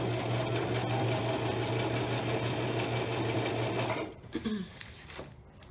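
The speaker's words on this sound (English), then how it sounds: "I'm going to continue to sew." A sewing machine stitches a fabric pillow cover with a loud, steady, rapid whirring hum close up, then stops abruptly near the end, leaving a few soft handling clicks.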